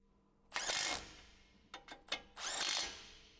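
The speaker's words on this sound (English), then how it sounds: "Then use a 22mm on the impact to tighten the nuts." Impact wrench with a 22mm socket tightens the suspension link and tie rod nuts on a 2007-2018 Jeep Wrangler during a front right CV axle install, firing in three close bursts: a long whir, quick stuttering hits, then another sustained run.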